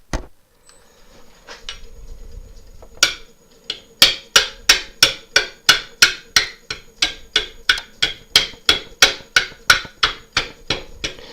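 Rhythmic clunking of a gouge on an end-grain monkey puzzle wooden bowl spinning on a lathe, about twenty sharp, evenly spaced knocks close up over a steady motor hum, with no talking.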